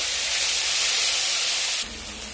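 Ground spice paste tipped into hot mustard-oil-style cooking oil for Bengali shukto, giving a loud steady sizzling hiss that drops to a quieter sizzle near the end, with no talking.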